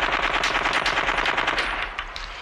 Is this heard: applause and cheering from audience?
no